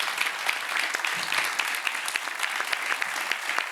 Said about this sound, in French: On peut les applaudir, les tout petits